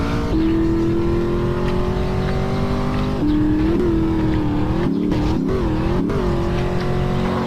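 A sports car drives in GTA, its engine holding a steady loud drone, then pitching up and down with revs near the end, with no talking.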